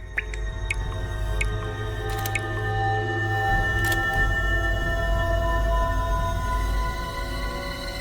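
Water drips with sharp, irregular droplet hits inside a closed, empty flat, sounding close over a low steady hum, several drops spaced unevenly.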